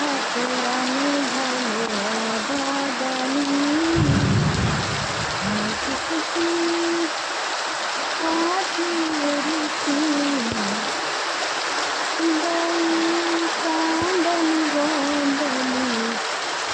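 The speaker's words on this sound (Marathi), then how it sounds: "किती पाऊस पडत आहे किती आवाळा आहे" Steady heavy rain roars throughout, a dense wash of noise, with a person talking over it much of the time.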